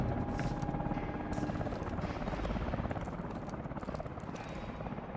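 A helicopter's rotor thumps and engine whine fill the scene steadily, loud and close, with faint voices and game effects mixed in, in Call of Duty: Advanced Warfare.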